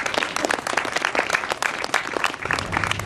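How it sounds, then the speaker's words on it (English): A crowd at an outdoor environmental rally claps for an economist being introduced, a brief, dense burst of applause heard close and fairly loud with no talking. "Give a round of applause."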